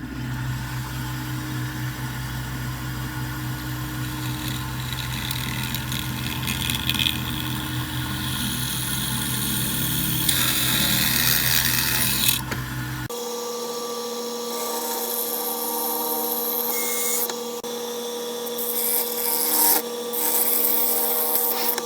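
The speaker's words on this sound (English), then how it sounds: "I'm going to drill some holes into the tabs." A drill press bores holes into small metal tabs for a homemade bicycle chain cleaner, giving a steady loud whirring grind that runs continuously and shifts tone partway through, with no talking.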